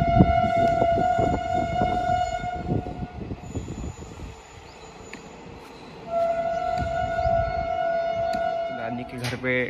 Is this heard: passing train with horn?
yes